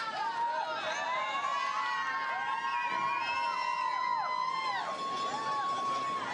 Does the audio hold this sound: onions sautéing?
no